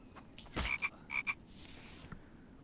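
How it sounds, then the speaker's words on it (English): A frog croaks in the game The Infected: a few short, bright croaks close together, followed by a softer trailing call over quiet background ambience. "there's another frog outside"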